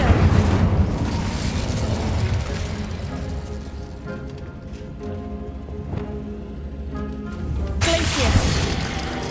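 Incendio fire spell cast in Hogwarts Legacy, a loud booming burst with crackling fiery rumble that sustains over several seconds, then swells again near the end over game music.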